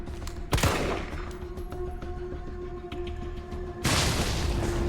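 Gunfire in the video game Resident Evil 3 comes as loud bursty blasts at the start and end, separated by a stretch of tonal game music and scattered clicks.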